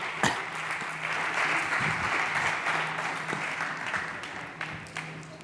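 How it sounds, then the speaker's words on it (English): Sustained applause from a startup conference audience for a presenter, a continuous wash of clapping with a few sharper claps and a faint low hum underneath. "Big applause to Ángel."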